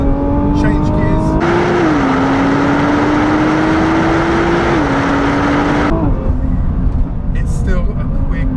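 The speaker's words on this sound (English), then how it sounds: "you can hear the twin turbo spool up. So put your foot down, change gears." A 2020 Nissan GT-R's twin turbo engine pulls hard through the gears, a loud close rising drone that steps down at each shift, with a voice talking over parts of the run.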